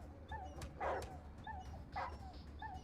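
Dog yelps and whimpers from the ATOM RPG video game, a few short high-pitched cries repeating in a loose rhythm over a low background hum, fairly close and clear.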